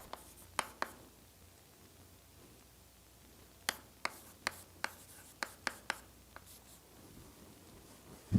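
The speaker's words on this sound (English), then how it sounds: "So let me write like this." Chalk or marker tapping and scratching on a board during a doctoral lecture on partial differential equations: sharp, irregular clicks in quiet clusters, faint and close, with no talking.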